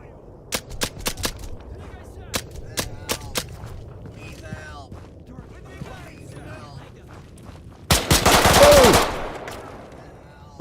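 Gunfire in Arma 3 comes as a string of sharp, separate shots early on, then a loud, dense burst of automatic fire near the end, with faint voices and movement sounds between the bursts.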